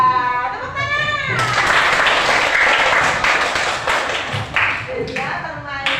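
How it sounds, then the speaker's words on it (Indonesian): Schoolchildren in a fifth-grade primary classroom burst into a round of lively clapping that fills the room for several seconds, with voices chattering before and after and children's exclamations mixed in. "tepuk tangan"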